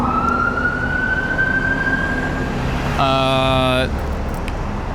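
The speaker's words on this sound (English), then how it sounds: "Fire sirens in the background." A distant fire engine siren wails with a slowly rising tone over steady background noise, and a brief harsh tonal blast cuts in near the end.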